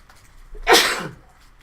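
A single sharp sneeze from someone in a seminar audience, one loud burst of breath and hiss lasting about half a second, with no talking around it.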